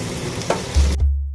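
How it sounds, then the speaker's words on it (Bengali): Chili, cumin and ginger pastes sizzle in hot oil as they are stirred, a close, bright frying hiss with a brief scrape, ending in a low thump before falling quiet. "লঙ্কা বাটা, জিরে বাটা, আদা বাটা দিয়ে অল্প নেড়ে দিলাম।"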